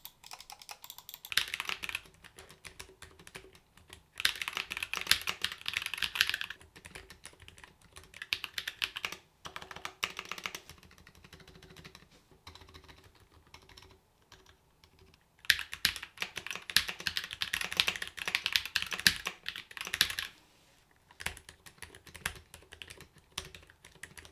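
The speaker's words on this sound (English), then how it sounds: "the pink switches feel really good to type on. It is so quiet." Bursts of typing on a split mechanical keyboard with pink switches, soft muted keystrokes in several runs separated by short pauses, close and fairly quiet.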